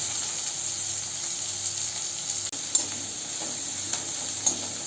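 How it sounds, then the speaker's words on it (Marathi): Chopped onion sizzles in hot oil left in the pan while cooking soybeans, making a soft, steady crackling hiss with occasional light clicks and taps of a spoon, close by with no voices. "आता त्याच तेलात आपण कापलेला कांदा टाकूया"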